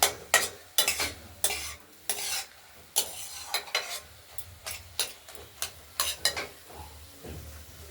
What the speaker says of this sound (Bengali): কড়াইয়ের ঢাকনাটা খুলে আরেকবার নাড়াচাড়া দিয়ে নিচ্ছি।